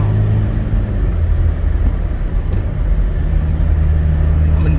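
A Tata XTA 4x2 truck accelerates on a public road, its engine giving a steady, loud low rumble that holds constant throughout with no talk over it.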